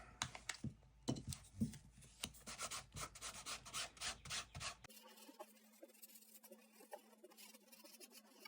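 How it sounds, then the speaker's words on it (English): A tarot card is rubbed through the fingers with a paper towel between them, making repeated soft papery rubbing strokes in a steady rhythm, close and fairly quiet, growing fainter toward the end. "run your card through your fingers with the paper towel in between, and you're going to get excess off"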